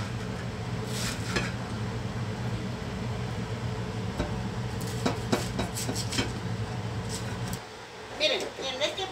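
Longaniza sausage meat fries in a pan with a steady, close sizzle and occasional stirring clinks. The sizzle breaks off briefly near the end.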